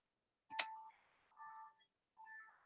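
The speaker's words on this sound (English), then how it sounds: "It sounds like my alarm." A phone alarm goes off quietly indoors, a few short tonal chime bursts separated by brief pauses, with no talking over it.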